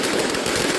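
Dense crackle of exploding firecrackers at a Spring Festival new year celebration, a continuous loud burst of overlapping bangs filling the whole moment with no voices.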